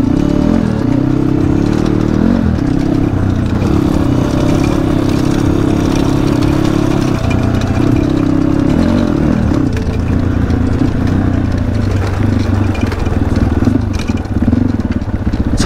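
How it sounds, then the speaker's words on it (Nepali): A motorcycle is ridden along a new dirt track, its engine droning loud and close throughout with rising and falling revs and some rattling clatter. "महिनापछि कुदाइरहेको छु बाइक यार"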